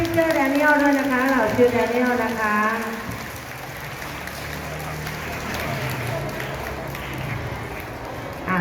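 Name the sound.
applause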